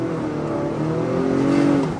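A 2021 Acura RDX with a turbocharged engine accelerates hard in sport mode, a loud, steady engine drone rising in pitch over two seconds, heard from inside the cabin with no talking.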